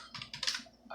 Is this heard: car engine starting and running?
no